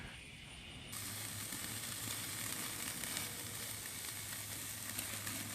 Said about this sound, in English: I'm just going to sear this meat for a beef stew I'm going to cook inside.